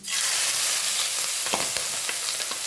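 Chopped onion, green chilli and garlic sizzle and crackle steadily in hot oil in a pan, with a few stirring clicks and scrapes near the middle and end.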